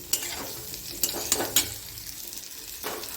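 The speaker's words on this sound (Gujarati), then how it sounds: "હવે આપણે એને ગેસ ધીમો જ રાખીશું આપણે અને સરસ રીતે આપણે એને હલાવી દઈશું" Raw mango pieces fry over a low flame in a pan for a sweet-and-sour Gujarati sabzi. A soft, steady sizzle runs throughout, broken by several scraping stir strokes of a spoon against the pan.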